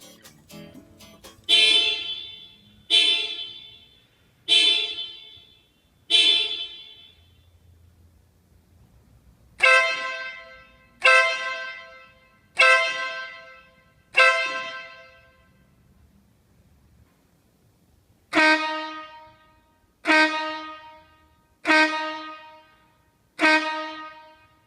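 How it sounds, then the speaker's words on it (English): Italian Marco air horn kit blasting in a series of short, loud, bright bursts, three quick groups of four sharp toots separated by brief pauses, each with a rich harmonic tone and quick decay. "So that's the Marco air horn kits."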